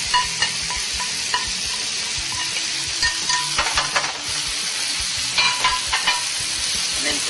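Ramen noodle stir fry sizzling in a hot pan, a steady frying hiss broken by repeated scrapes and stirring knocks, close up and with no talking.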